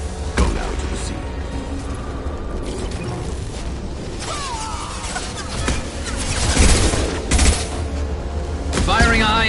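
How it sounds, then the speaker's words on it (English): Gunfire and mechanical clatter from the video game Mass Effect 2, with sharp shots, metallic ratcheting and crashing impacts layered densely and loudly, building toward the end. "Firing a high-impact shot!"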